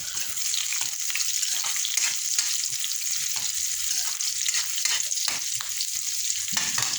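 Pork bones and mung beans sizzle steadily in a pan, with a continuous close frying hiss broken by scraping stirs, all through without talk.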